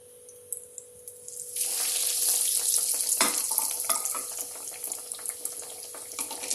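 Egg-dipped bread dropped into hot oil for egg bread toast, a sudden hissing sizzle that swells and then bubbles steadily with crackling pops, close by.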